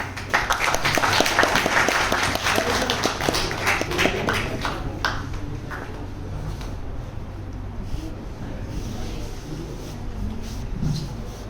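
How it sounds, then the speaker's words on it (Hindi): Audience applause at a workshop on waste segregation, a burst of crowd clapping that is strongest at first and tapers off over several seconds into scattered claps and room noise, with faint talk beneath. "अच्छा ताली।"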